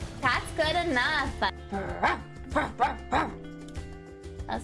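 A person imitates a barking pit bull, voicing a string of yappy, whiny bark-like yelps close to the mic, some drawn out into whimpers, with brief pauses between them.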